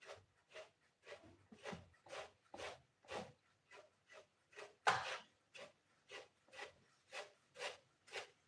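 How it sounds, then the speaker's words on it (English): A grater rubs along the edge of a cake to trim it before fondant decoration. About sixteen soft, rhythmic rasping strokes come evenly spaced and close but faint, with one slightly louder stroke midway. There is no talking. "So you can do some finishing with a grater."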